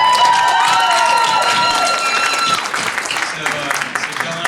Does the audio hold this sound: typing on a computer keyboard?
no